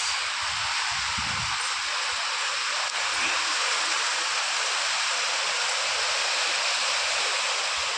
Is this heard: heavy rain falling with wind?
yes